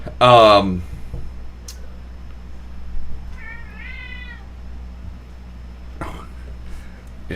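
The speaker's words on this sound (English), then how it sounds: "Other cat came in to torment other cat." Two cats squabble indoors as a small cat torments an old one: a loud, harsh yowl at the start, then a shorter wavering meow midway, with faint rustles and a low steady hum between.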